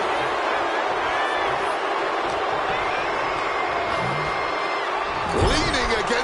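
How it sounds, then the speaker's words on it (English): An arena crowd in the WWE 2K26 wrestling video game roars in a constant loud wash of cheering behind CM Punk, with a louder swell and a thud near the end and a commentator's voice faintly mixed in. "CM Punk rallying the crowd behind him."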